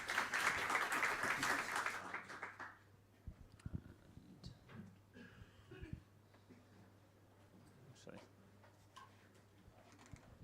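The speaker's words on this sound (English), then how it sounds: "Let's give everyone applause." Audience applause at JuliaCon 2024, a programming conference session room, loud and dense for the first two seconds, then fading into scattered claps and murmuring with voices talking.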